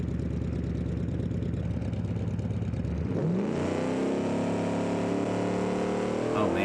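A vehicle engine in a video game runs at a steady throbbing idle, then revs up sharply and climbs into a sustained higher whine, close and loud, with a voice briefly talking over it.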